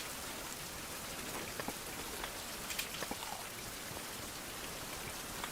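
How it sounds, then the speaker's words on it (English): Steady rain falls in a survival video game, a soft, even hiss of drops with faint scattered patters and no voices, continuing throughout. "It's still raining too."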